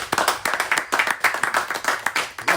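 A single person claps their hands in appreciation, a quick, uneven run of about twenty sharp claps, loud and close, with no voices.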